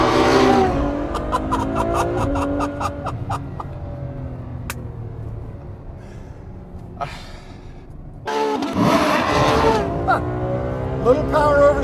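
A Ferrari F12 Berlinetta V12 revs hard on a track. It climbs through the rev range in rising, harmonic-rich sweeps, eases off, then surges loudly again near the end, heard from inside the car under occasional talk.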